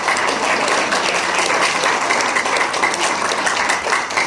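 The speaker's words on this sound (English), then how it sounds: "Let's give one more round of applause for all of the students" Audience applause for school students after a presentation, a dense steady wash of clapping throughout, loud and close, with no talk.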